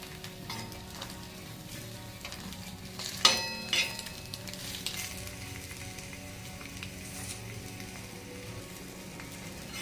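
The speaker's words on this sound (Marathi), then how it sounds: "थोडे यांना फ्राय करून घ्यायचं आहे आपल्याला एक अर्धा मिनिट फक्त आपल्याला याला फ्राय करायचं" Farm eggs frying in a pan for Maharashtrian egg masala give a steady crackling sizzle like light rain, with a brief louder hiss and clatter partway through and no talk.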